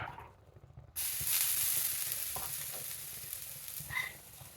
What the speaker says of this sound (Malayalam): ഇളക്കി